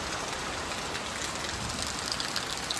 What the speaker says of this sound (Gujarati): જુઓ વરસાદ શરૂ થઈ ગયો ભાઈ